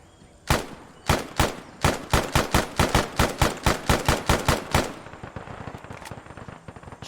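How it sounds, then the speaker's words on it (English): Rapid bursts of gunfire in the Arma 3 Vietnam-era combat scenario, about fifteen sharp loud shots in a steady rhythm, then a trailing scatter of fainter distant shots and crackle. "Here, maybe if I shoot at Wesley a bit."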